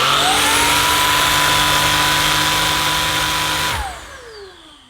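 A Shark Stratos IZ400UKT cordless stick vacuum runs with a loud steady high-pitched motor whine, then switches off and spins down over the last second.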